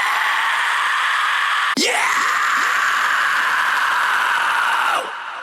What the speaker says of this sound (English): Maybe like metal scream.